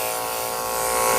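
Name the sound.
electric clippers shaving a Shih Tzu's belly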